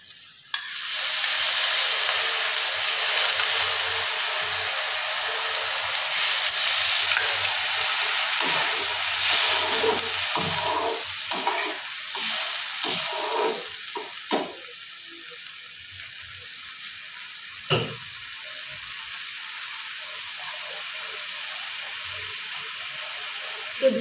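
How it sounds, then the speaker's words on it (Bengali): Water poured into a pan of frying dhoka (lentil cake) masala mixture, a loud steady sizzle and hiss that settles into softer bubbling and stirring sounds near the mic. "দেখো আমি জলটা দিয়ে দিচ্ছি।"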